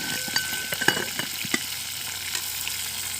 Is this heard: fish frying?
yes